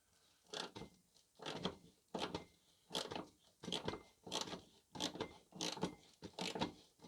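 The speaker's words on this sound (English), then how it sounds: "It's just two little 10mm bolts. And we just crack them loose." A ratchet wrench loosens two 10mm shock absorber bolts on a Ford Focus. It makes about ten rapid bursts of ratcheting clicks in a steady rhythm, close to the microphone and fairly quiet.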